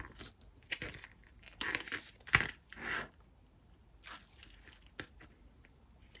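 Double-sided tape is torn and pressed onto fabric while a peekaboo bag is sewn, giving quiet, close crackling rips and rustles in short separate bursts with gaps between them.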